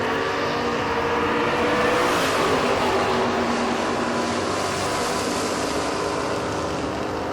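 Drag strip launch of a 1979 Camaro and a big Mopar, a loud continuous roar of race engines lasting throughout, steady and heavy with a slight swell early on.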